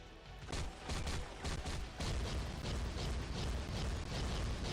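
The Void Explosion skill effect in the mobile game Marvel Future Fight sounds as a loud, dense run of explosive bursts and booming impacts, rapid and continuous for several seconds with no speech.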